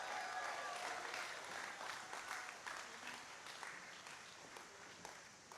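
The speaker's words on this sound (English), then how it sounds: "So let's give them all a big round of applause." Festival crowd at the National Folk Festival opening ceremony in Salisbury, Maryland applauding steadily, a dense wash of many hands clapping that slowly tapers over several seconds.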